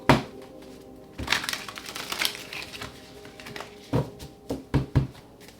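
A deck of tarot cards being shuffled, with several quick crackling riffles and flutters close up, separated by short quiet gaps.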